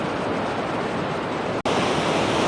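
Fast-flowing canal water rushes in a constant loud broadband roar, unbroken except for a brief dropout, with no voices.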